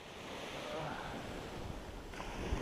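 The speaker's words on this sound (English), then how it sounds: "waves are crashing and whatnot" Ocean surf washing steadily onto a beach at Rocky Point, Puerto Peñasco, a broad continuous rush of waves heard from the shore, fairly faint, with some wind noise.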